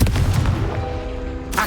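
The Confringo explosive spell cast in the Hogwarts Legacy video game: a single loud booming blast with a ringing, tonal decay, then a sharp follow-up crack near the end.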